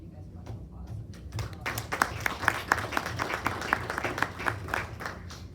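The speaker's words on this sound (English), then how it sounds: "really just want to give you guys a round of applause" Applause at a Bremen High School District 228 board of education meeting for district staff, teachers and students: scattered claps build quickly into loud, close, sustained clapping from a small room of people.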